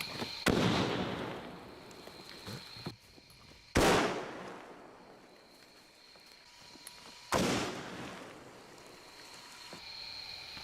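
An aggressively crimped pipe detonates with a sharp, loud blast, and two more similar bangs follow a few seconds apart, each cracking sharply and then fading into a reverberant tail over quiet outdoor background.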